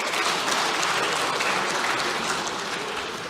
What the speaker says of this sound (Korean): 이럴 때 박수 한번 치시면 어떨까요?